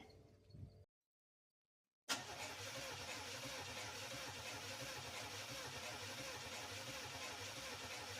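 Engine of a 1992 Chevy 4x4 pickup cranking and catching after a short silence, then settling into a steady, loud, close running rumble.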